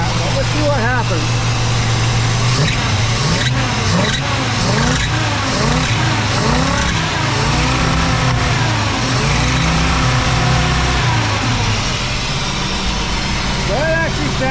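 The engine of a 4x4 Willys wagon runs at a high idle with a steady mid-range drone and a few swells in pitch, while someone talks over it throughout.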